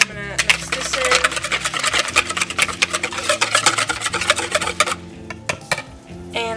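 Bungeoppang batter being mixed in a bowl, with rapid rhythmic scraping and clinking of a utensil against the dish, loud and close, briefly pausing near the end.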